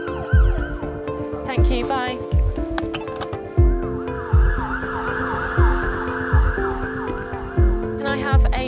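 An ambulance siren wails through the ride carrying an injured teenage girl, its tones sweeping under steady road rumble and repeated thumps, with a brief spoken exchange near the end.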